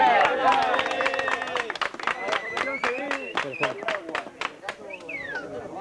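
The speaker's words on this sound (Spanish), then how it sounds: "Bueno, un aplauso a la organización." Scattered hand clapping from an outdoor crowd at a hill climb cycling event, sharp individual claps in an uneven rhythm mixed with lively chatter and voices nearby.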